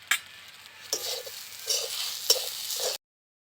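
Grated mankachu frying with salt and green chillies in a pan over low heat, stirred in several quick scraping strokes over a soft sizzle, close and moderately quiet.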